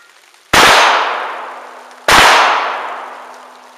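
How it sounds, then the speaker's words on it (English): Two loud shotgun blasts from a Century JW 2000 double-barrel 12-gauge coach gun fired outdoors in the rain, each a sharp crack with a long decaying ring, about a second and a half apart. "Fire a few more rounds"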